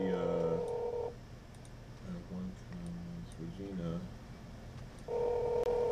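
Cell phone dialing tones and ringback at the start and end of a call, loud beeping tones bracketing a quieter middle stretch of ringing and low tones, with no clear talk over them.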